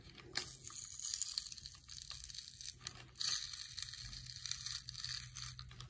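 The foil wrapper of a Pokémon Fusion Strike card pack is crinkled and torn open close up, giving a loud, continuous crackling, crumpling rustle with several sharper tearing bursts and no talking.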